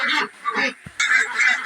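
Pekin and Indian Runner laying ducks at a duck farm quack in a few loud, close bursts, with a short pause between calls.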